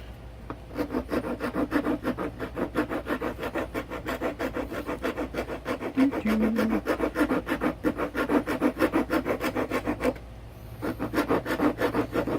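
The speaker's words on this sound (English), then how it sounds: "rasp when you really just want to tear some crap up" A hand rasp scrapes wood for an LED lantern in fast, even back-and-forth strokes, about two per second, close and alone, with one short pause before the strokes resume.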